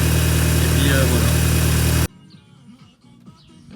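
An Audi TT engine idles after an oil and filter change; a loud, steady hum fills the first two seconds, then cuts off abruptly to a quiet background with faint sounds.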